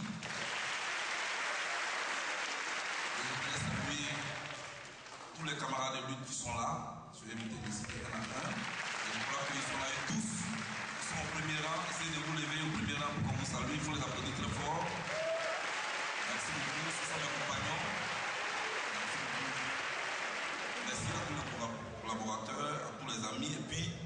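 An audience at a Côte d'Ivoire tribute event applauds in sustained waves while someone speaks over the clapping through a loud PA, with brief dips in the crowd noise before it swells again.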